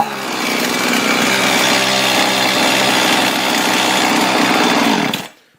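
A Husqvarna 55 chainsaw engine idles slightly high, holding a steady, loud buzzing drone with no voices for about five seconds before cutting off abruptly.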